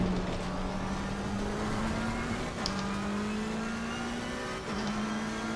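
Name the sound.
Aston Martin race car engine in video game Assetto Corsa Competizione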